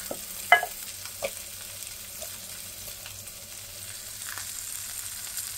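Chicken pieces fry in a little oil over low flame, a soft steady sizzle with a couple of sharp utensil knocks early on and light scraping, fairly quiet and close.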